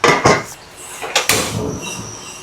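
A cooking pot being covered with its lid while making paksiw na okra, heard as a few sharp metallic clanks and rattles close by, clustered in two brief bursts.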